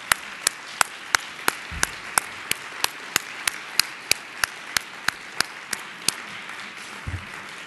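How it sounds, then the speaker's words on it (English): Audience applause at a conference closing session, honoring the conference committee: sparse, evenly spaced sharp claps ring out over a steady crowd-noise bed for several seconds, fairly distant, with no talk. "Let's all stand up and give the whole committee a huge round of applause"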